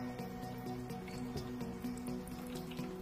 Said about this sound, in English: Fill the garden up with water until the float is on the same level with the lid